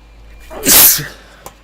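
One loud, forceful human sneeze bursts out close to the microphone, a single explosive blast that fades quickly, followed by a tiny click.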